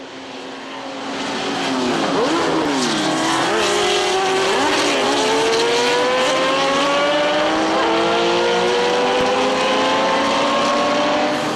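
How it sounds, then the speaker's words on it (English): Lola T298 race car at the Le Mans Classic, its engine rising and falling through gear changes as it passes close by, a loud continuous high-revving whine that builds and then holds steady. "Patrice Lafarge in the Lola T298."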